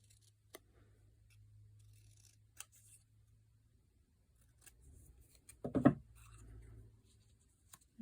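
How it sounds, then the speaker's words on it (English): Scissors trimming paper for a bird craft give a few soft, sparse snips and clicks, then a brief cluster of sharper cuts, close but quiet over a low background hum. "And I'm just going to trim off so I don't see that purple."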